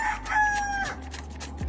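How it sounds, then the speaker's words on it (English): A chicken crows nearby, a loud drawn-out call with a sharp rising start, followed by quieter background noise and a faint low hum. "Please don't mind that chicken."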